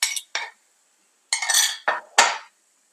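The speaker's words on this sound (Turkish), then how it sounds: "Karıştırarak yumurtayı güzelce pişirip tamamen birleştiriyorum." A utensil scrapes and clinks against a pan as beaten egg is stirred into zucchini, giving a few short, close metallic strokes with brief pauses between them.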